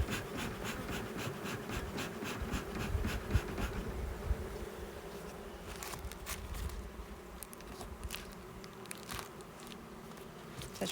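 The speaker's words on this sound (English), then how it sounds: "Such pretty little bees too." Honeybees buzz around a backyard beehive, a continuous close drone with overlapping wingbeats rising and fading as individual bees pass near, alongside faint ticking and scratching from the hive.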